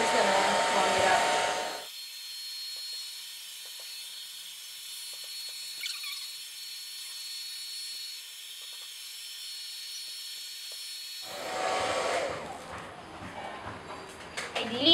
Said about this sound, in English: So I'm just gonna use a hair dryer.